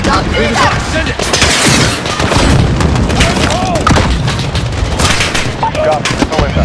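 A missile strike and constant automatic gunfire roar through a Call of Duty: Modern Warfare (2019) embassy mission, loud and dense from start to finish with booming impacts, while radio voices talk underneath.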